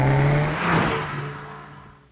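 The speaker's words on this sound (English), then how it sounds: "What also adds to the experience is the exhaust note in sport mode" A Volkswagen Golf GTI's 2-litre TSI engine in sport mode gives a loud, close exhaust note that swells briefly and then fades as the car passes or the revs drop, with no talking.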